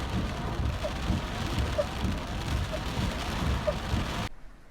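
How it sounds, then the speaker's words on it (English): Heavy rain pours in windy, wet weather with flash flooding, a dense, constant hiss and patter that cuts off abruptly near the end. "In this wet weather. It's windy, full on, flash flooding everywhere."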